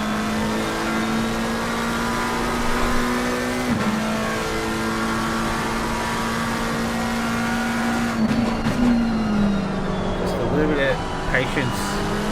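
An Aston Martin race car in the Pan Am Racing game at Suzuka during a 4-hour endurance race holds a loud, steady, high engine drone that climbs gradually, then falls with lifts and gear changes near the end.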